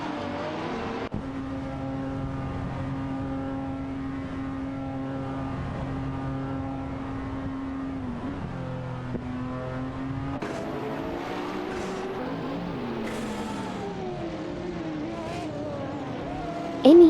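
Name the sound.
race car engines in a video game race, Maserati MC20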